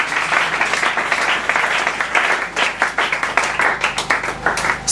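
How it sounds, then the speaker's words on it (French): A church congregation applauds and acclaims the Lord during a service: steady, dense clapping with some cheering runs unbroken for the whole stretch, with no individual voice standing out. "Est-ce qu'on peut acclamer le Seigneur?"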